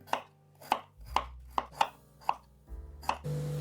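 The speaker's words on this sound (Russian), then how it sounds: "Разрезаю на средние кусочки." Knife chopping peeled potatoes into medium pieces on a cutting board, about eight crisp, evenly spaced cuts close up, with a few soft thuds of pieces dropping between them and no talking.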